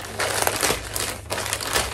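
Plastic parcel packaging holding a hat is being opened, giving close, continuous crinkling and rustling with brief louder crackles and no talking.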